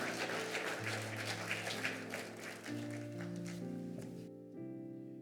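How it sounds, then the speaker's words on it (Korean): A church congregation applauds at a retirement ceremony for deaconesses, the clapping faint and distant, heard together with sustained organ or keyboard chords that carry on after the clapping fades near the end. "우리 큰 박수로 축하해 주시기 바랍니다."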